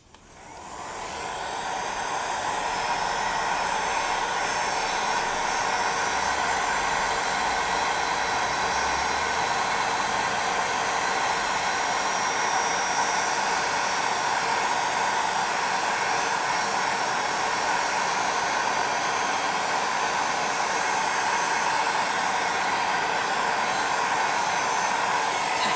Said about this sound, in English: Then again, we will cure with our heat gun.